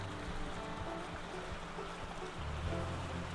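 A wolf wades across a river in the video game WolfQuest: Dragon Pack, with steady rushing, splashing water and low churning sloshes throughout, rising somewhat near the end.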